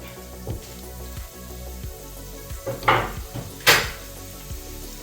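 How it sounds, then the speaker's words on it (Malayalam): Green chillies, about five to ten, fry in hot oil for a Kerala-style fish pickle, giving a steady close sizzle with a few louder spitting bursts and light clinks of a pan. "ഇനി നമുക്കൊരു അഞ്ചെട്ട് പത്ത് പച്ചമുളക് വറുക്കാം"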